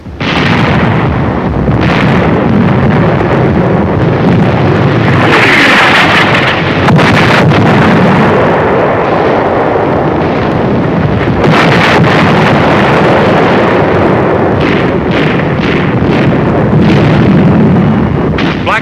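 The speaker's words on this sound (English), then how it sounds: "A direct hit on an enemy 88mm gun position." An artillery shell strikes an enemy 88mm gun position in the North African desert in 1943: heavy, sustained blast roar and rumble, loud and continuous with sharp bursts near the middle and end, on an old wartime film soundtrack.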